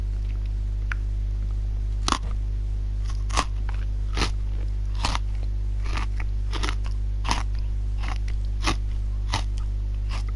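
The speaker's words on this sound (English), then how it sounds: "That is Halloween biscuit because it's extra crunchy." A home-baked, extra-crunchy Halloween biscuit is bitten and chewed in a string of sharp, close crunches at irregular intervals over a steady low electrical hum, with no talking.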